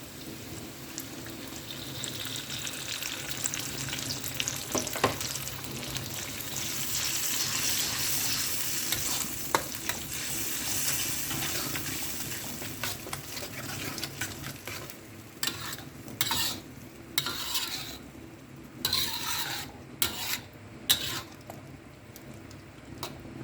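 Ground chili paste frying with onions in a pan for nasi lemak, a loud sizzling hiss that eases into spattering crackles and stirring scrapes toward the end.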